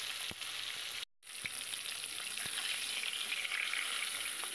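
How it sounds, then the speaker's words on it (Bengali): Koi fish fry lightly in hot oil in a pan with a continuous close sizzle and crackle, broken by one brief silent gap and a few soft pops. "একটু হালকা ভেজে নেব মাছগুলো।"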